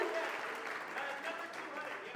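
Audience applause at an annual literary press benefit fundraiser: a short, moderately loud burst of clapping and cheering in an indoor room.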